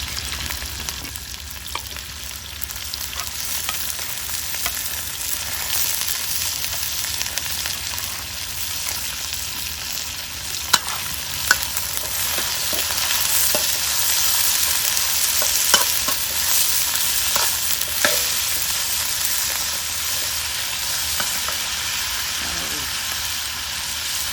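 Pork and onion frying and stirred in a pan for fried rice, a steady broadband sizzle running throughout with scattered utensil scrapes and clicks, close and fairly loud, no talking over it.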